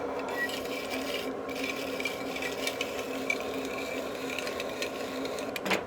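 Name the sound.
grating food on a cheese grater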